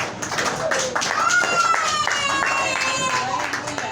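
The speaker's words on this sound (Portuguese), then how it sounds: "Os irmãos podem nascer louvando a Deus com uma salva de palmas bem alegre para Jesus" A church congregation claps together joyfully in praise, a dense, fairly loud burst of many hands with voices mixed in over the clapping.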